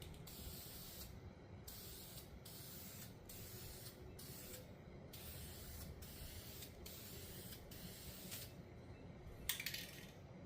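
Short bursts of aerosol spray paint hiss in repeated passes over hood vents for a Ford F350, each spray lasting about a second with brief gaps between, steady and close with no talking.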